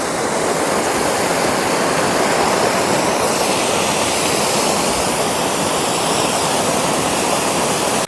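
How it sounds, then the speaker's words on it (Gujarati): Water pours over the full Dantiwada Dam in a steady, loud, unbroken roar of rushing spillway noise, with no voices heard. "કેટલું પાણી પડે એકદમ ફૂલ."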